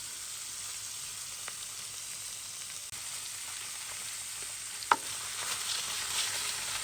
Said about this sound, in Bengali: এক করে সব মাছ ভেজে নিই